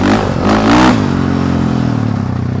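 A KTM 450 SX-F dirt bike's four-stroke engine revving hard close by, a loud blat that climbs in pitch then settles into a steady, throbbing idle.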